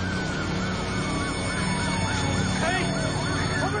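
Wailing emergency vehicle sirens, several overlapping, sweep up and down over a steady rumble of engines and road noise as rescue crews arrive at the Crossair flight 3597 plane crash site.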